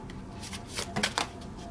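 Tarot cards are shuffled and drawn from the deck, with soft papery riffling and a few crisp flicks close by, quiet and brief.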